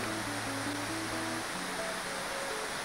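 River water flows through a forest beside an old archaeological site in Indonesia, a steady broadband rush throughout, with faint melodic tones drifting over it and no voices.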